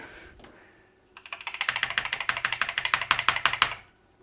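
Fast typing on a BBC Master 128 computer keyboard with some faulty key switches, a close, loud burst of rapid clacking keystrokes running for a few seconds after brief quiet.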